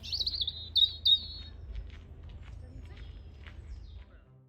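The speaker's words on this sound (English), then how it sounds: "I did spot a robin nearby" A robin in wet woodland gives a few high, thin chirps at the start, then quiet, faint scattered calls over a low background hum.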